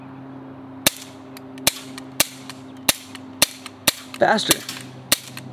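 A young shooter fires a gun outdoors: about ten sharp, loud shots at a steady pace roughly half a second apart, with a short voice cutting in near the end.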